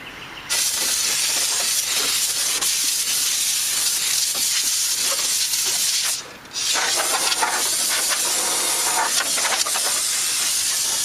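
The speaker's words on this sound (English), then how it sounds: "we'll go get my dinky little air compressor out" A small, dinky portable air compressor runs close by with a steady loud hiss and hum, briefly dipping for a moment partway through before resuming its constant drone.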